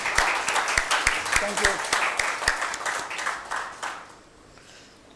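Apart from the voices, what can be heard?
audience applause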